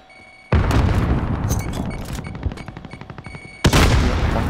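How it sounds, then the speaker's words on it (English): A grenade blast in a video game gives a sudden loud boom, then a rolling rumble and crackling gunfire, and a second sharp burst near the end. "Throwing grenade."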